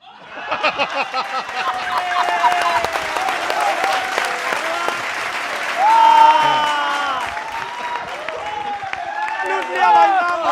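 An audience at a political comedy stage show applauds, with claps swelling into a sustained wash under a host's excited speech, with scattered chuckles and a second burst of clapping near the end.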